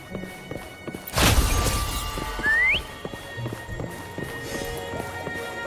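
A rising whistle call in the Wuthering Waves video game, preceded by a burst of a mount's hoofbeats, with light game ambience and footstep taps around it.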